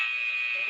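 A steady electronic workout timer buzzer drones at one pitch for under a second, loud and close, with no pauses.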